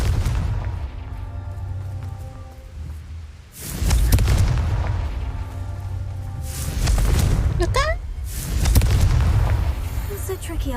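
Confringo blasting spell explosions in the Hogwarts Legacy video game, with two or three deep booming bursts that rumble and fade amid a bright sparkling magical whoosh, over game music.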